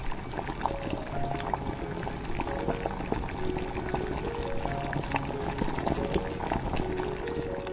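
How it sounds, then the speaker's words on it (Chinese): Pork rib and lotus root soup bubbles vigorously in a pot on high heat. A constant, close burble of boiling liquid with popping bubbles runs throughout, with no speech. "可以看一下这个效果，大火熬至5分钟啊"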